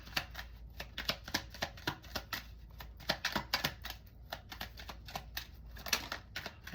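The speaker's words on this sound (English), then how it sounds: "Let's pull up some final cards, please." Playing cards riffled and shuffled in a rapid run of crisp, papery flutters and snaps, close and steady throughout with no voices.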